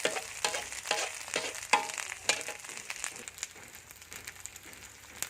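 Field rat meat dry-roasts with spices in a wok, with a low crackling sizzle under repeated rhythmic scrapes of a stirring utensil, loud at first and then settling softer.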